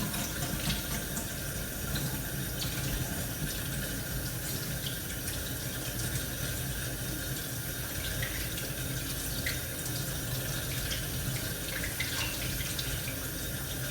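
Cold water runs steadily from a kitchen tap while making sausage rolls, a continuous hissing splash into the sink that stays even and moderately faint throughout, with no talking.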